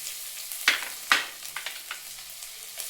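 Onion, capsicum, tomato, carrot and curry leaves fry in oil in a small pan for corn paratha, a soft sizzle with a few sharp stirring scrapes and ticks and no talking.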